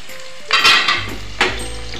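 Slit green chillies dropped into hot oil in a pan for egg biryani, giving two bursts of crackling sizzle over a steady frying hiss, with light clinks of utensils.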